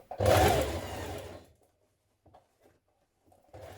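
Sewing machine stitching a shirt sleeve in place, a loud whirring burst of about a second that quickly stops, followed by near silence with faint handling taps and the hum starting again briefly at the end.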